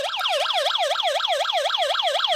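A Marsboy 4 in 1 wireless doorbell with motion alarm blares its siren, a loud, steady wailing sweep repeating roughly every quarter second with no pauses and no voices.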